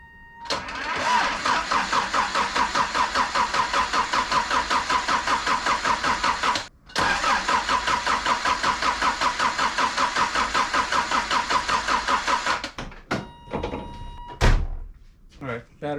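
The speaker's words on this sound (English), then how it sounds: "So let's give this a crank and see if it starts." A 1979 Toyota Corolla with a 2TC engine cranking on the starter in a long, steady rhythmic churn that pauses briefly, resumes for several seconds, then ends with sputters and thunks as it tries to catch.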